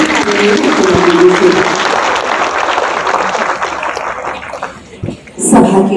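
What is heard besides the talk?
applause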